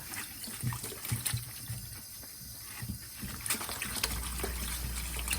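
Tap water runs steadily over cucumbers being rinsed for pickling after a scrub with a soft sponge, a continuous trickle and splash with occasional bumps close by.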